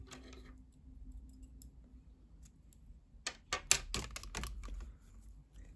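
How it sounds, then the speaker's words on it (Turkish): Scissors snip sewing thread after a neckline is stitched, a few sharp close clicks near the end following a quiet stretch. "İpliği kesiyorum."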